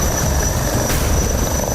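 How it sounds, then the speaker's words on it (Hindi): HAL Light Utility Helicopter flying, a steady rotor and turbine drone that holds even and loud throughout with no voices. "अपने स्वदेशी हेलीकॉप्टर, लाइट यूटिलिटी हेलीकॉप्टर पूरी तरह से तैयार है।"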